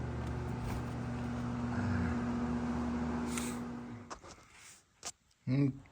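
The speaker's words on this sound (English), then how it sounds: "I'll crank the engine over to help" A 2013 Lexus GX460 engine cranks over in a steady, droning mechanical run for about four seconds during spark plug replacement, then cuts off, leaving a few short scattered knocks and noises.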